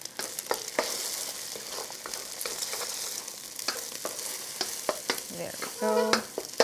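Eggs being scrambled in a hot wok for pad see ew, with steady sizzling frying and repeated sharp scrapes and taps of a utensil against the metal, close and fairly loud throughout, with a brief spoken remark near the end.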